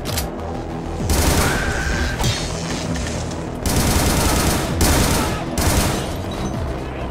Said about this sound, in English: let's go for the assault rifle this time